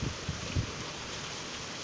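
Heavy rain and gusting wind in Volzhsky during a storm, a steady broad hiss of downpour with a few low buffeting wind thumps on the microphone at the start.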